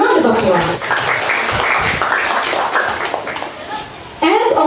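An audience applauds at a school class debate as a master teacher is introduced, a dense continuous wash of clapping mixed with children's chatter and a few chuckles, holding steady before a brief dip near the end.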